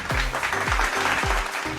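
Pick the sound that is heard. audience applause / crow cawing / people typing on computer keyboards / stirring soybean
audience applause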